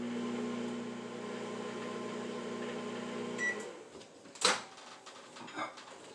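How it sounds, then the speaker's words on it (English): A microwave oven hums steadily for several seconds before stopping, then its door clicks and thumps open with a few close handling knocks. "I'm going to put it back in the microwave for just a minute."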